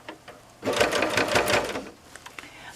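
A sewing machine stitches a zip into fabric along the top edge, giving one close, steady whirring run of about a second and a half between quieter handling noises.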